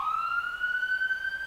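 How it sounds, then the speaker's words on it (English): An emergency vehicle siren wails steadily in the distance, a single rising tone sustained throughout as it passes, with no other sounds over it. "Let's wait for the siren to go by."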